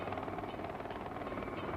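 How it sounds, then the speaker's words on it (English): A helicopter carrying the King of Bhutan and Rajiv Gandhi to Thimphu flies with a steady, fairly faint rotor drone and engine rumble that stays even throughout. "a helicopter brings His Majesty King Jigme Singye Wangchuk and Prime Minister Rajiv Gandhi to Thimphu."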